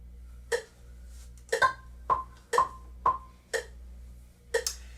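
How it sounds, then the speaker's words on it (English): Metronome clicking steadily at 60 beats per minute, about one sharp, fairly quiet tick each second against a low background hum, with no other sounds. "We'll start by using the metronome at a very comfortable tempo."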